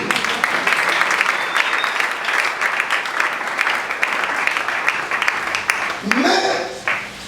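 A church congregation at a plenary gathering in Kinshasa applauds and acclaims Jesus: dense, sustained clapping and cheering from a large crowd that fades out near the end as a voice comes in.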